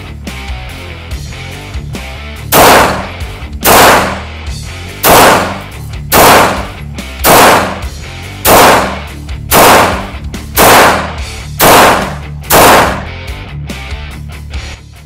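A Springfield Armory XD-M Elite pistol fires about ten sharp, loud shots at a steady pace of roughly one per second, each crack with a short echoing tail over quiet range background.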